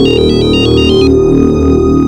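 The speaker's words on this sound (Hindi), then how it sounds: "शिवा को फोन लगाओ।" An electronic phone ringtone plays loudly and continuously, a repeating melodic pattern with no voices.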